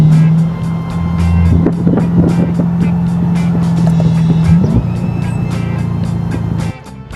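Deep, steady rumble of a 5.5-litre naturally aspirated V8 car engine, 420 horsepower, idling and revving slightly, close and loud, then dropping off near the end.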